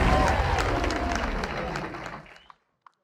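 Theatre audience at a hip-hop honors event for the cast of Beat Street applauds and cheers in a thick, roaring wave of clapping and crowd noise, fading out about two and a half seconds in, then silence with a couple of faint ticks.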